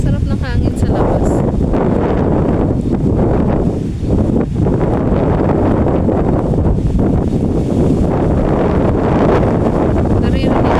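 Strong, steady wind in Vietnam roars and buffets the microphone throughout, a loud continuous rush with gusty swells and no pauses.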